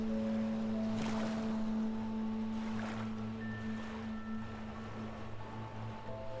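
Gentle ocean waves wash onto a beach in a video game, a steady soft surf under a sustained low musical hum, with no voices.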